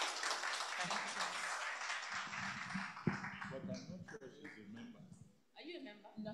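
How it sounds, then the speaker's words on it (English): Members applaud at an institute's members evening, with clapping that thins out while people start talking over it, a voice carrying through the second half. "please give her a round of applause."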